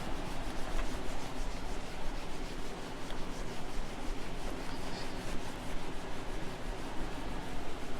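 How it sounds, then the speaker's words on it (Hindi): Writing being rubbed off a board, a continuous dry scrubbing and brushing noise that runs steadily through the whole stretch with a gentle back-and-forth pulse and no speech. "अब हम इसको रब कर देंगे"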